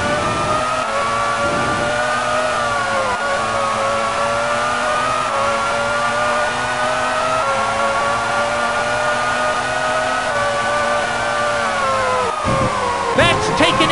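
Formula One cars racing at Adelaide, with Luca Badoer among them, roar continuously at high revs. Steady engine whine fills the whole stretch and shifts in pitch as cars overtake, with a commentator's voice faintly underneath.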